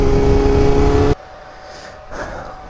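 A loud BMW M1000RR streetfighter motorcycle engine drone cuts off abruptly, followed by a quieter stretch and a brief rising rev of exhaust in the distance.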